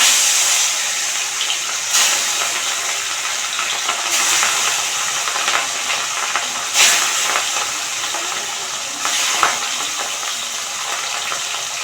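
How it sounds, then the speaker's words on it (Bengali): Fish sizzles in hot oil in a wok, a loud, continuous hiss and crackle of frying with brief louder spits every couple of seconds and no talking. "কড়াতে মাছ দিয়ে দিয়েছি কত করে ফুটছে চটছে"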